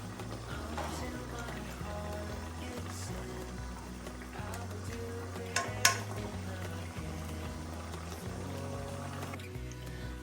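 Food fries in a covered pan, a continuous low sizzle and splutter with a couple of sharp pops near the middle, under a steady background hum.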